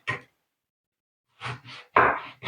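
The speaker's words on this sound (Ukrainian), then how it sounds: "Ось такі полосочки нарізаю." A knife slices an eggplant into strips on a kitchen board: one short cut, a pause, then a quick cluster of three crisp chopping strokes, close and fairly loud.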